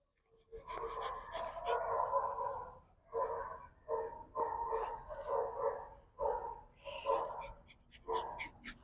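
A dog in a puppy socialization setting barking in repeated bursts, moderately close, with short pauses between volleys and a few yips.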